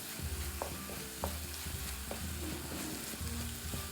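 Chopped tomato and onion frying in a pan, a steady close sizzle with a few soft stirring knocks at intervals and no talking.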